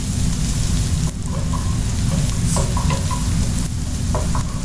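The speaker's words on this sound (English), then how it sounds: "So just saute them for 5 minutes till they get a slightly brown color" Chopped garlic and ginger sauté in hot oil for an Indo-Chinese mushroom dish, giving a steady close sizzle with occasional stirring scrapes, alone with no talk.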